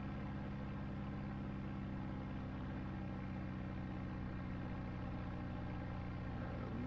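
Inside the cockpit of a Bonanza F33A, the aircraft engine gives a low, even hum that runs without a break. It sits fairly quiet and distant-sounding, with no talk over it.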